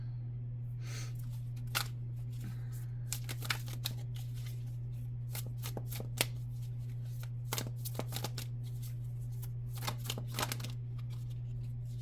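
A deck of tarot cards being shuffled and drawn, with repeated crisp riffling snaps and card slaps at close range over a steady low hum.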